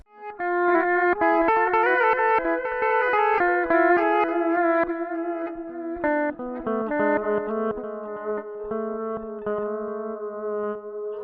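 Electric guitar notes played continuously through a delay effect, each note repeating and smearing into a dense, echoing wash with a slightly chorused shimmer.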